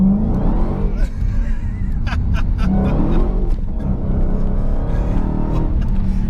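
A 2020 Dodge Challenger Hellcat Redeye Widebody accelerates hard, its engine a loud, sustained roar heard from inside the car, rising in pitch through the pull with a brief shift-like dip around the first second.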